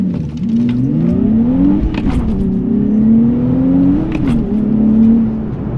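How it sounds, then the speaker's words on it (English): A 2024 Nissan Z's engine and exhaust rev up loudly from inside the car, rising through the gears in several climbing, droning pulls with short dips at the shifts. "the exhaust, it's even better. So go ahead and accelerate here so you can hear what it sounds like"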